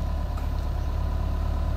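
A Hitachi EX120-3M excavator diesel engine, suffering low power and derate trouble, idles steadily up close with a continuous low rumble and no one talking.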